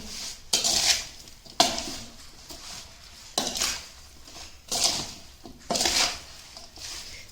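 Green chillies are tossed and mixed with oil in a bowl for pickle, heard as a series of irregular scraping, clattering spoon-on-metal strokes, close and fairly loud.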